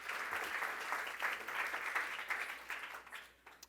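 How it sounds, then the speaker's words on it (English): A live audience gives a round of applause, steady moderate clapping from many hands that holds for a few seconds and then thins out toward the end. "Big round of applause for Thank Matt and you, Johnny. everyone."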